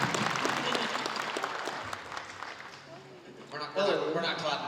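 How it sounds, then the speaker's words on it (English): Audience applause at an anime convention panel for Kaiju No. 8, a broad wash of clapping that thins out, with voices and light laughter rising near the end. "Let's give a round of applause."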